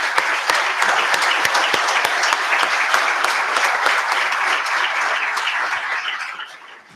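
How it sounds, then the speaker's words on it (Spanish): An audience applauds to welcome Professor Mark Fagan of Harvard's John F. Kennedy School of Government onto the stage; dense, steady clapping holds for about six seconds, then fades out at the end. "recibimos con un aplauso"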